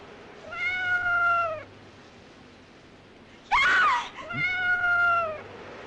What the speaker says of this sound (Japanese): ただの子猫だ。